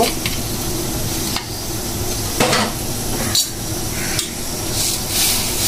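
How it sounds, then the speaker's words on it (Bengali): Lentil dal being poured into a pot of boiled mango, a continuous close, loud rushing splash broken by a few sharp clanks of utensils against the pot. "এখন আমি ডালটা ঢেলে দিব, যেহেতু আমটা সিদ্ধ হয়ে গেছে।"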